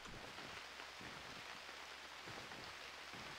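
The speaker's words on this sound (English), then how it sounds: "Early evening, it's raining." Rain in the survival video game Unreal World, a constant, even hiss of falling rain with a faint low rumble underneath, heard alone.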